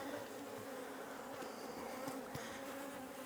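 Angry honey bees swarm and buzz around an opened hive after being smoked, a dense, steady, close drone with no voices.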